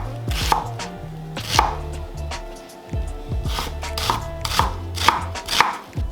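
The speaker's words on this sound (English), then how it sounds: "And then we're gonna cut some onion." A knife chopping yellow onion on a cutting board, close and crisp, with irregular bursts of quick chops separated by short pauses.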